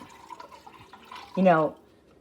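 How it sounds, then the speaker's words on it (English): Water poured into a slow cooker over a pork roast, a brief louder gurgling pour lasting about half a second near the end, following quieter kitchen sounds with a voice talking throughout. "So I'm just going to put enough water to get up to the top"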